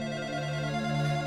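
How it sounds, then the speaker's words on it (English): A telephone rings in Dragon Quest XI S gameplay, a steady electronic tone held through the whole moment at moderate loudness with no voices over it. "Pick up the phone, Jeesh."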